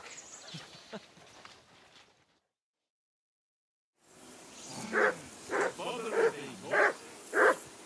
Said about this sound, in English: This doggy's barking for.